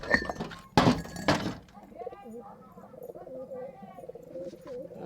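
Soft pigeon cooing from a coop, low throaty warbles repeating steadily nearby, after a brief burst of a person talking and a knock at the start.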